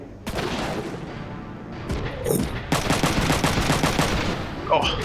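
Gunfire from mech combat in the video game Front Mission 3 crackles in repeated rapid bursts, loud and close, with heavier booming hits between volleys and no clear talking.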